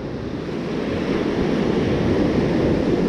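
Strong ocean surf breaks and washes ashore at Carpinteria Beach, California, a dense, loud, continuous roar of churning water mixed with wind noise, swelling slightly toward the end with no talking.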